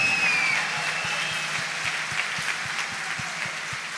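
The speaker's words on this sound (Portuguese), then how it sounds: "Brada uma gratidão, uma salva de palmas para ele." A church congregation at an Advent Sunday Mass claps steadily together, a continuous wash of applause with faint rhythmic beats underneath, no talking over it.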